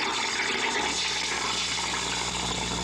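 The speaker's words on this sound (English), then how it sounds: "the sink can only gurgle" Water rushes and gurgles steadily through a sink with low water pressure, a continuous hissing, splashing flow heard close with no talk.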